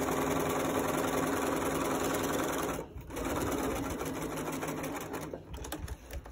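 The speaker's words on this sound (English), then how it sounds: "I'm gonna take a couple stitches" A sewing machine stitching diagonal seam tape runs in a steady, loud mechanical whir, pausing briefly twice before resuming, with a constant high whine above the motor hum.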